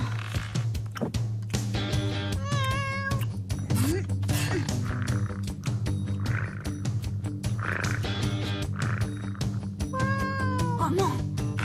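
Repeated cat meows ring out over steady background music, several cries spaced through the stretch with croak-like tones mixed in.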